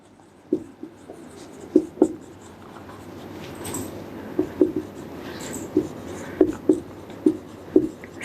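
Chalk or marker tapping and scratching on a board during a physics lesson, a series of sharp close strokes in an irregular rhythm over a quiet room.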